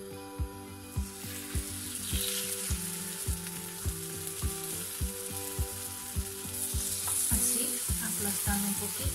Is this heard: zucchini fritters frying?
yes